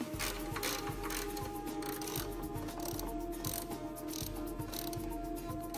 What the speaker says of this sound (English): Install the three mounting bolts that secure the shock.